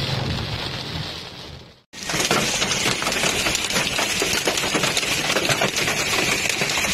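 Small hailstones pelt a roadside in Depok during a hailstorm, making a dense, steady clatter that briefly cuts out, then resumes loud and unbroken.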